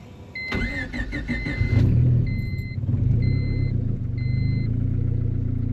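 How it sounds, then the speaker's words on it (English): A turbocharged Honda Civic cranks and fires up, its engine catching into a loud, steady idle as it warms, with a few short electronic chimes from the car sounding over the low rumble. "Let's get this thing fired up, get some heat in it, and go try it again."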